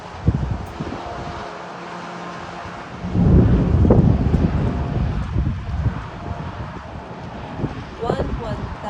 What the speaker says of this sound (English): there's some thunderstorms.